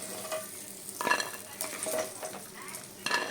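Potatoes sizzle in mustard oil under clattering utensil strokes, a moderately quiet frying hiss broken by several distinct metallic scrapes and knocks against the pan.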